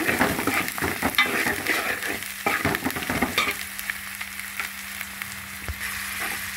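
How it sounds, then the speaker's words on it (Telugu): Vegetable pieces sizzling in hot oil with ginger garlic paste, a steady frying hiss broken by scraping stir strokes, close up and continuous with no voices. "ఈ ఆయిల్లోనే ఫ్రై అయిపోతుంది అన్నమాట"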